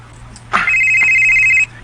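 A cellphone rings once with a loud, steady electronic tone lasting about a second, close by, after a brief knock, with no talking over it.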